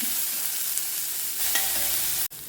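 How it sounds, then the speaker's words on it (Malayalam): Onion, shallot and ginger sauté in a pan with a constant sizzle and a few brief stirring scrapes, close and alone. "ഇത് വഴറ്റിയെടുക്കാം."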